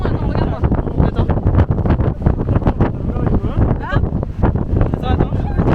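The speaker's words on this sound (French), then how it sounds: "Il y a trop de vent." Strong gusting wind buffets an outdoor microphone at an Arizona national park, a loud continuous rumble and flutter with voices talking through it.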